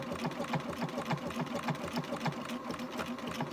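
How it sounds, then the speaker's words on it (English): A Bernina sewing machine fitted with buttonhole foot 3a stitches a small bar tack at the end of a buttonhole, giving a steady, rapid mechanical whir of needle strokes, close and alone. "It does a little bar tack and then it continues backwards to where you started from"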